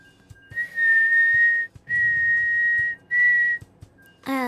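A person whistles inward to imitate a cricket, making three sustained, piercing high tones with short gaps between them, close and alone, then a brief rising chirp at the end.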